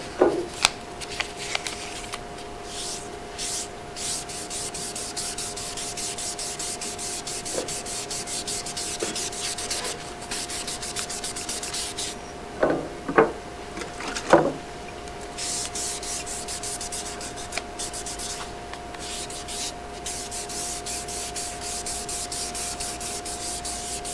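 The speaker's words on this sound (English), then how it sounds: "Now, you see, I haven't rubbed it enough" A chip-carved wood surface rubbed by hand, giving soft scuffing and sanding-like strokes with a few louder scrapes partway through, against a low steady hum and no talk.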